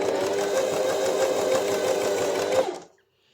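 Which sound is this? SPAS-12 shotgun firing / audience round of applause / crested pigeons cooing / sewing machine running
sewing machine running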